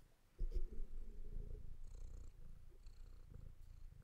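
A cat purrs close up in a steady, rumbling rhythm of soft breaths, quiet and alone with no talking.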